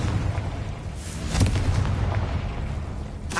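A Confringo blasting spell explodes in Hogwarts Legacy, a booming detonation over a low rumbling background, followed by a sharp burst near the end.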